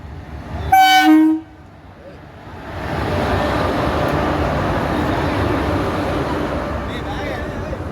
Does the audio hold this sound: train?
yes